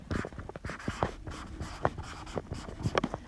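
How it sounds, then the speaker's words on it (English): A pen scratches across paper while someone writes math notes, soft quick strokes in an irregular rhythm, close and quiet with no speech. "So I'm going to write inputs right here."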